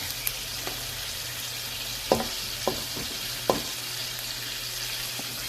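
Garlic sizzling and browning in a frying pan, a steady soft crackle of hot oil with a few sharp taps of a utensil stirring it, heard close and fairly quiet.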